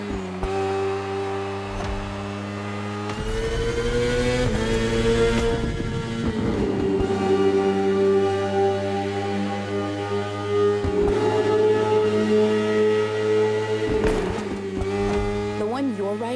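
A BMW S1000RR superbike's engine in The Crew Motorfest drones steadily and loudly, its pitch climbing and dropping through gear changes, with a voice talking over it.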